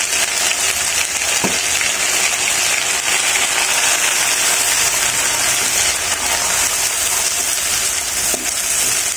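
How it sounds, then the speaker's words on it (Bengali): Onion and garlic paste frying in hot oil, a dense loud sizzle and hiss holding steady throughout, with a couple of faint utensil taps and no speech. "এখন এই তেলের ভিতরে দিয়ে দিচ্ছি হাফ কাপ পেঁয়াজের পেস্ট, দিয়ে দিচ্ছি রসুনের পেস্ট"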